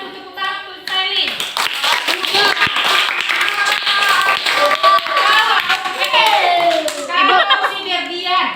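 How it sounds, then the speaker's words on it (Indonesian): A class of children applauds in a classroom, with steady, fairly loud clapping filling most of the stretch while children's voices chatter underneath. "Tepuk tangan untuk Sailin."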